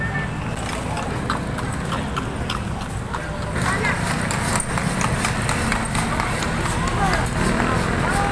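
Racehorses gallop past at a fiesta horse race in Angeles City, a loud, close, rapid drumming of hooves that builds and continues throughout, with crowd noise and people talking over it.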